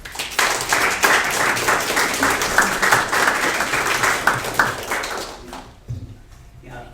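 Audience applause after a speaker at a focus group, a lively burst of many clapping hands that builds quickly, holds for about five seconds, then drops off into near silence with a faint voice at the end.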